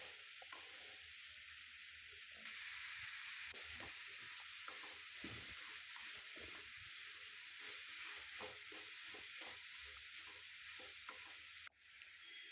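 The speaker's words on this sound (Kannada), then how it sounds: "ಹೆಚ್ಚಿಟ್ಕೊಂಡಿರೋಂಥ ಟೊಮೆಟೊ ಹಣ್ಣನ್ನು ಕೂಡ ಹಾಕ್ಕೊಂಡು ಫ್ರೈ ಮಾಡ್ಕೊಬೇಕು" Chopped tomatoes frying in a pan, with a soft steady sizzle and repeated spatula scrapes and taps stirring them, faint and close, ending in a brief clunk.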